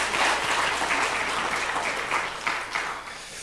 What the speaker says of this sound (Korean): 제가 예배 시간에 박수 잘 안 치는데 한번 박수를 한번.